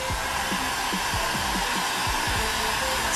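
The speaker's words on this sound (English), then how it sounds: "Heat gun. Here you go!" A handheld heat gun blows hot air in a steady, loud rushing hiss, with a faint rhythmic clicking beneath the airflow throughout.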